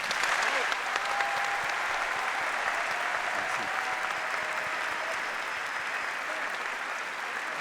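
Sustained audience applause at an awards event paying tribute to a man who has died, dense and steady, many hands clapping together at moderate distance for several seconds without fading.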